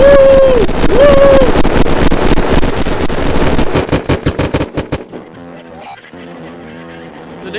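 Rapid automatic gunfire in the video game Unturned rattles loud and fast, then thins into separate bursts and single shots before stopping, while a player whoops and shouts over the opening part.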